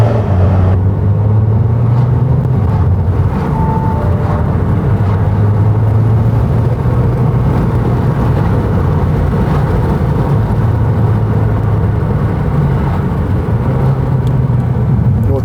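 An Audi A4 turbo diesel with a dual exhaust drones loudly and steadily, its pitch gradually falling and rising as revs ease off, with a deep exhaust rumble throughout.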